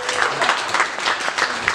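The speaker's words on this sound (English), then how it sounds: "Give these gentlemen a nice round of applause" A magic show audience applauds two volunteers with a short burst of crowd clapping, moderately loud, with a voice faintly underneath.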